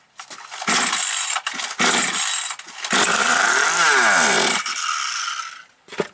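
A 5800 chainsaw engine that had been running erratically roars close by, revving up and dropping back several times in loud bursts with short dips between, then cutting off at the end.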